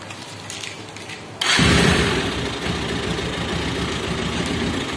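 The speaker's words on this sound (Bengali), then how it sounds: "তো বাইকের যে আমি গাড়িটা স্টার্ট দিলাম" A motorbike engine cranks and starts partway through, jumping from near quiet to a loud, steady idle that continues close by with no talk.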